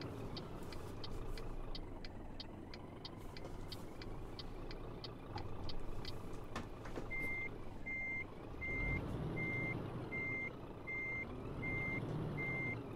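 A truck's reversing alarm beeps in a steady, evenly spaced series over a low engine drone in a truck driving video game, clear and close, joined partway through by the rumble of other traffic.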